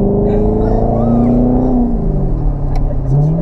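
A Corvette drives along with a steady, loud engine note and rising and falling revs as it accelerates, close to the listener with no talk.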